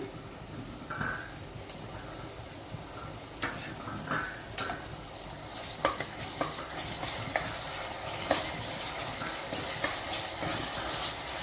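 Ginger garlic paste frying with onions and green chillies in a pan for spicy mutton leg curry, a steady close sizzle with repeated scraping stir strokes and sharp ticks throughout, no talking.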